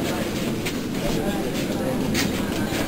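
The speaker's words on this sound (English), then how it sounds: "We're in the subway and we're filming." A subway train runs with a loud, continuous rumble and rattle that fills the whole stretch, with no voices standing out over it.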